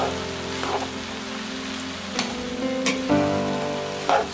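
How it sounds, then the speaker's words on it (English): A steady crackling sizzle of rice and vegetables frying together in a hot pan for Nigerian fried rice, with occasional scraping stirs and a faint hum underneath. "frying the vegetable and the rice together"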